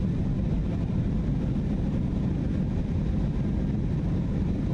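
A steady low engine drone mixed with rushing wind inside the cockpit of a Fenix airliner in Microsoft Flight Simulator during a climb, continuous and even, with no talk.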